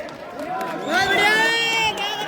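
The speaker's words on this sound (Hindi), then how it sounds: "भाई ऊपर वाले भी तो ताली बजा दो जोर से" Spectators at a kabaddi tournament final shout and cheer, a loud swell of voices rising mid-clip over background crowd noise and chatter.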